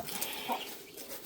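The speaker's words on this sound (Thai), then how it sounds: "นี่ไก่บักลายพี่น้อง" Chicken clucking nearby in a rural village setting, a short burst of bird calls over a hissy outdoor background, brief and moderately loud.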